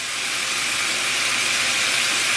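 Chicken stir fry with chili garlic sauce sizzles in a hot pan, giving a steady, even hiss that holds unchanged throughout with no voices.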